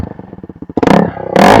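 A 2016 KTM RC 200 BS4 motorcycle fitted with a full Akrapovic exhaust system idles with a steady, lumpy pulse, then is revved hard twice in quick succession, loud and close.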